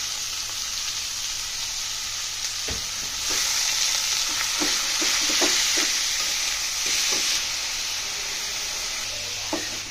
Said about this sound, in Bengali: আমার শাক ভাজি হয়ে এসেছে